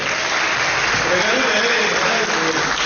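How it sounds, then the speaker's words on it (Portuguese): Congregation applause in a church, a loud, steady wash of clapping with a voice faintly audible beneath it. "Vamos dar uma salva de palmas para esses irmãos aí."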